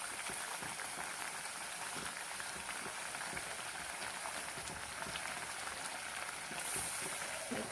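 Omelet pieces simmer in a pan of Assamese egg curry, giving a steady soft bubbling and fizzing that stays even throughout, with a slight swell near the end.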